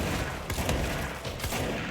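Shotgun blasts in the action video game Control, dense, loud bursts of gunfire with sharp broadband cracks around the half-second and one-and-a-half-second marks over a busy game soundscape.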